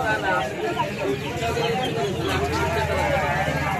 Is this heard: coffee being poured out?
no